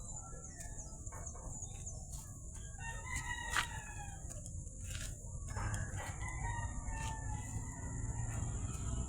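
Chickens cluck in bursts near and far while a rooster crows on a farm, over a steady high insect-like hum and outdoor background noise.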